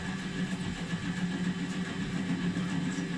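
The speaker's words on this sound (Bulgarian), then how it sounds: "Много удобна работа е двигателя от чистачки" A mini lathe driven by a windshield wiper motor runs steadily with a constant mechanical hum and whine, close and unbroken throughout.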